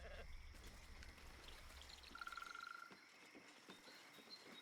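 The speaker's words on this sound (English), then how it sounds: "The sheep's voice warbles." A sheep in the video game Baldur's Gate III gives one brief, faint, warbling bleat over a low background hum and scattered soft noises.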